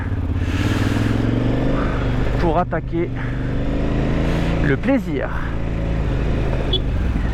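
A group of motorcycles rumbles steadily in Tangier city traffic, with engine drone throughout, a couple of horn honks, and someone speaking briefly over it.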